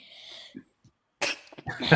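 A single close sneeze, with a short breathy intake before it, sounds during a chess commentary broadcast, followed by a quieter second burst.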